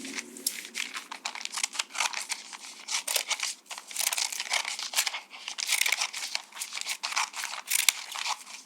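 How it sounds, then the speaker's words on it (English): Continuous crisp crinkling and snipping of a paper bag cut into fringe with scissors close by, a steady papery rustle with small cuts and crunches throughout, no voices. "take your scissors and cut fringe"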